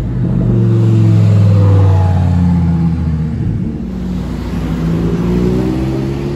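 A Ferrari 488 Pista sports car revs loudly on a street in Monaco, its engine note sweeping up and down in close, continuous roaring passes.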